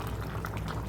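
Mixed vegetable gravy bubbles under a lid on the stove, a dense close simmering burble with small irregular pops throughout.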